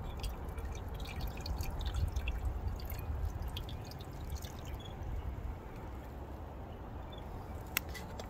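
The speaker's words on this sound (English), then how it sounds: "I'm gonna go ahead and fill up my Kelly Kettle" Water pouring into a Kelly Kettle camp kettle, a steady close trickle and splash running for several seconds with a faint drip near the end, no talk.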